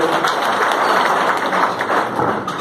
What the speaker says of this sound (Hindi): बहुत ज़्यादा ताली